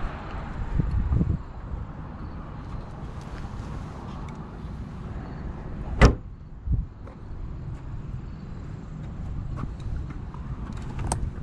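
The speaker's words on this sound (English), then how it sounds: "and then go close my trunk." A single sharp thump of a BMW i8 trunk slamming shut, heard outdoors against wind noise and a low idling rumble.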